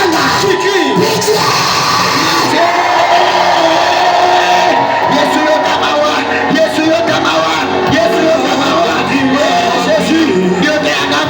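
People shout and cry out loudly together at an evening Bible seminar in a church, a dense, continuous roar of voices and yells with crowd noise throughout.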